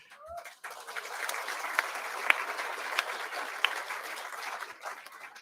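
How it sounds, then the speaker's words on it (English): Applause rises from a party conference audience at Hampden Park, starting after a brief pause and swelling into sustained, fairly distant clapping with occasional sharper claps and whistles. "So, conference, by your applause, I think we should recognise that commitment."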